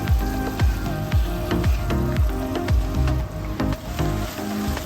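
Chicken fries in a pan with chopped garlic and green chillies, giving a steady crackling sizzle broken by repeated stirring scrapes and clatters at a roughly even rhythm.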